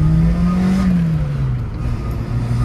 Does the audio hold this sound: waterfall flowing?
no